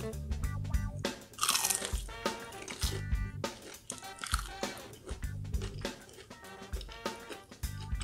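Close, loud crunching bites into crispy, thick mozzarella cheese sticks, followed by wet chewing with repeated crisp snaps and soft squishy sounds, with no talking.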